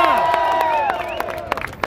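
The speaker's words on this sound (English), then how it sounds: "Come on, if you're gonna clap, clap for real." Scattered claps ring out under voices at a street co-naming ceremony for Big Pun Plaza in the Bronx, short and lively with crowd murmur.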